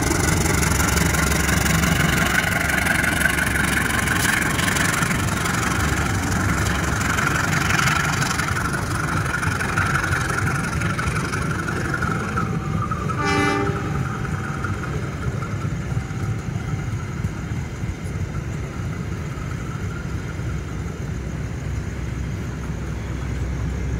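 A CC203 diesel locomotive engine rumbles steadily at idle at a railway station, a deep, loud throb with a brief tonal whine and clank midway.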